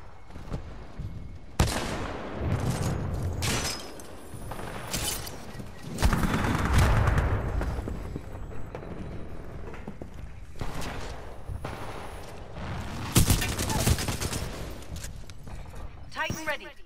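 Kraber sniper rifle shots in Titanfall 2 crack out as a few sharp, heavy booms spaced several seconds apart, mixed with in-game noise and voices talking throughout.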